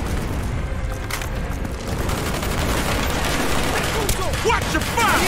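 Dense, continuous gunfire and explosions fill a Call of Duty Black Ops battle, with rapid overlapping shots throughout. Voices shout over the din.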